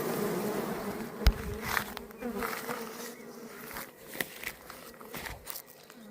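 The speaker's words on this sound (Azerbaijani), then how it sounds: "Niyəsə aqressivləşib arılar." Bees buzzing around opened beehives during an inspection, a dense, steady close drone with occasional louder passes and light clicks from the hive work.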